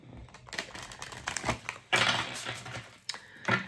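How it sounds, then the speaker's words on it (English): A tarot card deck being shuffled, with quick papery riffles and snapping card clicks in short bursts, close and fairly quiet. "let's give a couple more shuffles"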